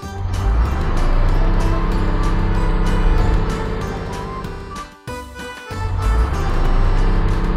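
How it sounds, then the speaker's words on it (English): A garbage truck's engine rumbles loudly and steadily, briefly dropping away for a moment before surging back up to a strong, close drone. "Garbage truck."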